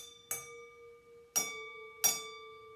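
Three bright tings on glasses holding water, each struck once and left ringing with a clear sustained pitch; the later two glasses hold more water and sound lower than the first.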